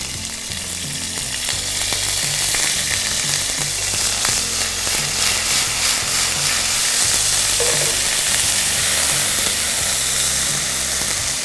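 Whole garam masala spices, cardamom, cinnamon sticks, curry leaves and ginger-garlic paste frying in hot oil, a steady, loud sizzle with occasional stirring scrapes running throughout, no voices.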